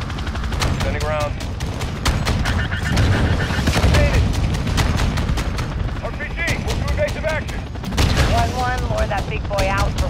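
Rapid, loud gunfire rounds and heavy booms rattle nonstop in Call of Duty Modern Warfare II during the High Ground co-op mission, with voices speaking over the shooting.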